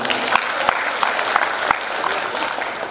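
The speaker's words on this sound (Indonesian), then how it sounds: "tepuk tangan buat kita semua" Lively audience clapping fills a large hall at an Islamic preaching event with Ustadz Handy Bonny at Bekasi Convention Center, a loud continuous crowd applause with a few sharper individual claps standing out.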